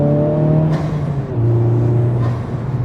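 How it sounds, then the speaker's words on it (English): Honda Civic Type R FL5 engine fitted with an Armaspeed air intake, revving with a steady droning tone that drops and resettles midway, loud and close throughout, no speech. "You still can definitely hear that air intake."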